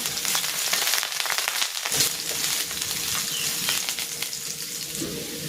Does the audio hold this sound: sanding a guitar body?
no